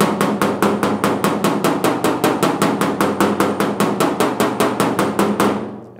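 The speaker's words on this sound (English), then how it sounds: "I've been using my little PDR hammer with the little rubber head on it" A small rubber-headed PDR hammer taps a car door skin on a GTO restomod, striking in a steady, quick, even rhythm of close, loud blows that stop near the end.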